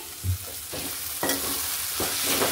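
A spoon stirs sugar into vermicelli in a hot pot, with repeated scraping strokes over a steady sizzling hiss, close and alone.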